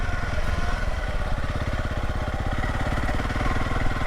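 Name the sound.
Honda CRF300LS motorcycle engine running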